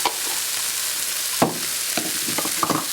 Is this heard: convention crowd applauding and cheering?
no